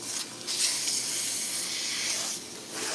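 Water spray rinses tape-in hair extensions in a salon, a steady close hiss that swells in two brief bursts and continues alone without talk.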